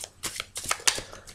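A tarot deck is shuffled close by in a few quick riffling bursts, the papery flutter of the cards rising and falling in rapid succession over a short moment.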